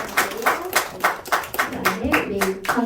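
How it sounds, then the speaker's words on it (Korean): A church congregation at a Sunday worship service claps together in steady, rhythmic unison, about ten close, fairly loud claps within a few seconds. "우리 주님 앞에 영광의 박수 드리겠습니다"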